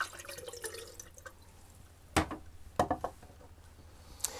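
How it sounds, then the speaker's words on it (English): Film developer is emptied from a photographic developing tank, a brief close pour of liquid followed by a few dripping splashes and knocks. "I'll just empty the developer out now and pop my stop bath in."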